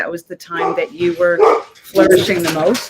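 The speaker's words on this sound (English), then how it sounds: "The dog's gone nuts." A dog barks and yips in quick, agitated bursts at close range, mixed in with a person talking.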